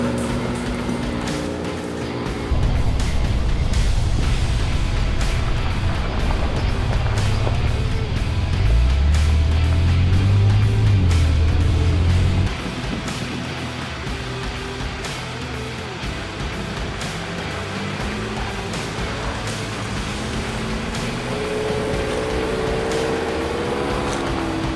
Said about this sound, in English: We've done the first dirt road, we're back on the bitumen now, heading towards Crestbrook Dam. I mean, the car is just driving effortlessly